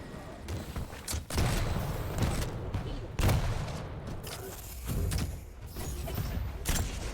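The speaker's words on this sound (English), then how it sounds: "We do see a nice Russian-style rocket jump." Rocket explosions in the Quake arena, several sharp booms at irregular intervals over a steady wash of game noise, with a commentator's voice running underneath.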